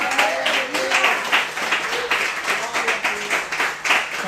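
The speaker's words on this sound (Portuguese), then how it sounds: "Aplauda ao Senhor mais uma vez." Church congregation applauding during a worship service at Igreja de Nova Vida do Catete, steady clapping mixed with voices speaking and calling out over it throughout.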